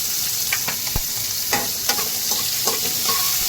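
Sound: green chilies frying in oil with cumin in a kadhai

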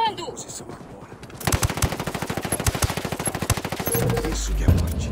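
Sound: gunfire in video game Ghost Recon Wildlands

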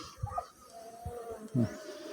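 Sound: honeybees buzzing at a beehive

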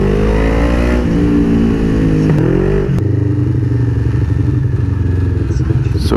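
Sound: motorcycle engine, rider easing off the throttle

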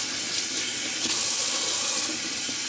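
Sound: water rinsing out a shaving lather bowl

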